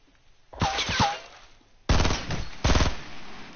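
Video-game gunfire comes in two loud bursts: a short volley of a few shots, then a longer rapid automatic stream after a brief pause, with no talking.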